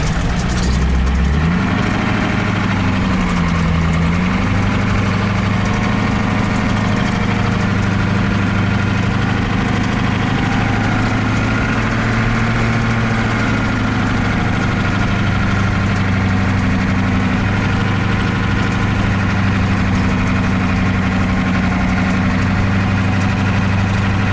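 A 444-cubic-inch non-turbo diesel van engine runs steadily while driving, with a deep, even low rumble and faint vibration, no voices, continuous throughout.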